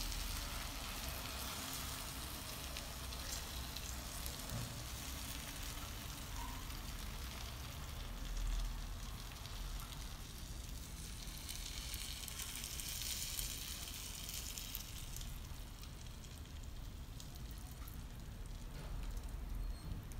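Syrup hits freshly baked hot qalb el louz semolina cake, giving a steady, dense sizzle and crackle that holds for about twenty seconds with no voices.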